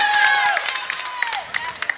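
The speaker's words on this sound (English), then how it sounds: "And big roar of the crowd for Cameron Williams" A crowd roars loudly at a West Rutland vs Danville girls' varsity basketball game in a gym. The broad, sustained roar swells and then eases, with sharp squeaks and brief bursts cutting through it.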